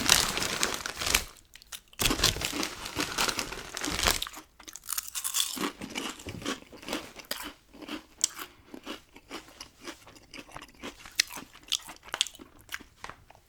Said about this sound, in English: maybe eating some chips, drinking a beer or something, instead of the gum chewing